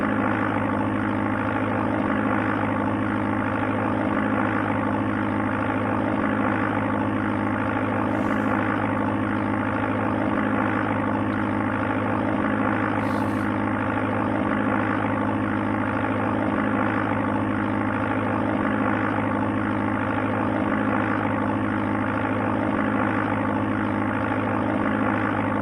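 A steady, droning propeller-aircraft engine hum from the Sublogic Flight Simulator II game on the Amiga runs continuously and loudly at a constant pitch, with no voices over it.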